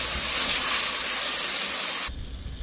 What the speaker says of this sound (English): Now, we'll just add some salt beef and stir it around a little bit.